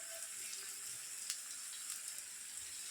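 Sweet mango pickle pieces cooking with jaggery give off a faint, steady sizzling hiss in a hot pan, with only a few light stirring touches and no voices.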